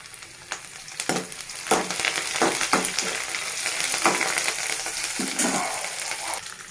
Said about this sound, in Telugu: ఆనియన్ ఫ్రై అవ్వనివ్వాలండి ఇప్పుడు మనం ఒక రెబ్బ కరివేపాకు యాడ్ చేసుకున్నాను